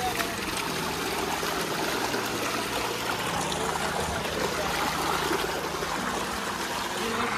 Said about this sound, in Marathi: आलेलं आहे पाणी